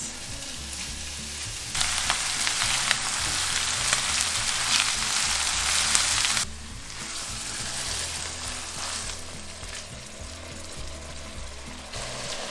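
Ground meat sizzles and crackles loudly in a frying pan over high heat as a second batch for ragù bianco is stirred and broken up, with bursts of intense frying noise easing to a steadier, softer sizzle.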